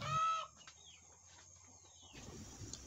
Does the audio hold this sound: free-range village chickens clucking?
yes